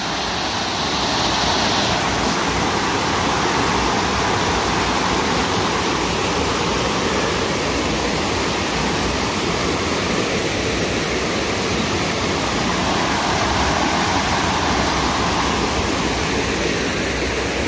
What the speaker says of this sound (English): Creek flowing down.